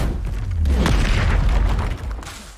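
A Confringo blasting spell explodes in Hogwarts Legacy as a single loud, close boom that swells into a roaring burst and fades after about two seconds.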